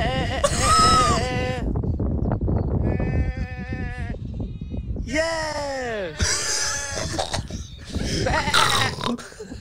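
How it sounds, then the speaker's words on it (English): A played-back recording of sheep gives repeated loud, wavering bleats in several bursts, overlapping with people talking. "Oh my God, Joe, you're speaking to a sheep"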